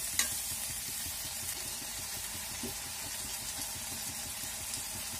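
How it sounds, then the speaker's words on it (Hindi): Tomatoes and onions frying in a pan for spicy potato curry, a soft steady sizzle with rhythmic scraping strokes of a spoon stirring, close and quiet, no talk. "अभी देखिए प्याज हो गया, अब इसमें टमाटर डाल देंगे।"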